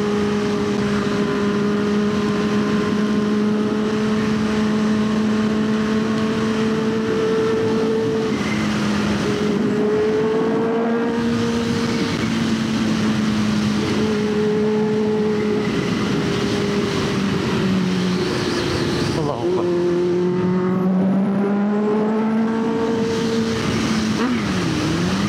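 A Kawasaki H2 motorcycle accelerates hard on a climb toward Cameron, its loud engine whine steady and close with pitch shifts as gears change, under constant wind roar.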